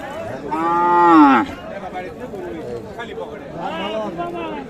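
A cow with her calf at a busy cattle market lets out one loud, close, drawn-out moo, followed by fainter lowing and the murmur of people talking around the stalls.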